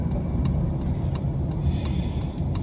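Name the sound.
car traffic on the road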